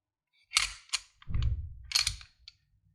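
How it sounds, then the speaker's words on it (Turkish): Metal parts of a TİSAŞ Zig 14 pistol click and scrape together as the slide is fitted onto the frame: a few sharp close clacks followed by a short sliding rasp and a final click, with no talking. "Artık takabiliriz önden nazik bir şekilde silah çizmeden"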